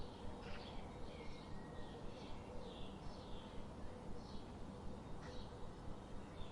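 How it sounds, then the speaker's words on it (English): Soft, regular cooing of a pigeon repeating about once a second over steady, noisy background hiss, fairly faint and with no talking. "pigeon."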